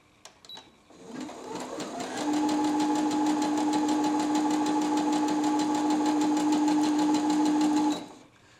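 A Brother NV 10 sewing machine stitches zigzag, rising to a steady, close, loud whirring hum that runs evenly for about six seconds before stopping abruptly.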